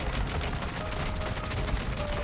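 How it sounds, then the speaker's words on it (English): Dense, continuous gunfire and blasts in Modern Warfare 3 Zombies, a shotgun firing amid chaotic battle noise, loud and close with no pause. "this shotgun is wild"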